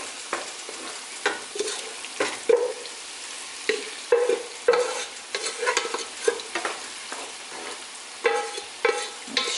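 Pork sizzling in a hot pan while being stirred and tossed, with frequent scraping and clattering bursts over a steady frying hiss, close and without talk.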